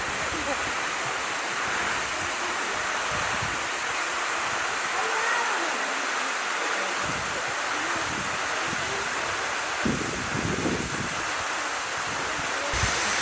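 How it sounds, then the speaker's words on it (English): A loud waterfall in Baños, Ecuador roars in a steady, dense wash of rushing water that fills the whole stretch, with a few low bumps and gusts breaking through near the microphone. "the waterfall's there and loud"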